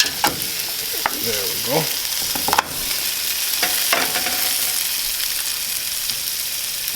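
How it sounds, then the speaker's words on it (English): Garlic cloves sizzling with pancetta in a hot pan, a continuous bright frying hiss with brief stirring scrapes and a short spoken remark near the start. "We're going to add in our garlic cloves."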